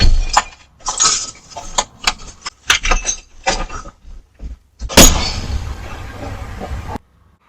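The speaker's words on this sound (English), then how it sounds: "he then started smashing the glass until it gave in, all while the camera continued to film" A large front window's glass being smashed by a man: a run of sharp knocks and cracks, then one loud burst of shattering glass that trails off into scattered tinkling for about two seconds before stopping.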